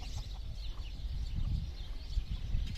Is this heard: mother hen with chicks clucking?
yes